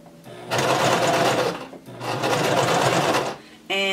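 Sewing machine stitching a loose piece of shirt fabric with back stitching, two sustained close runs of rapid mechanical chatter separated by a short pause, with a brief voice at the end.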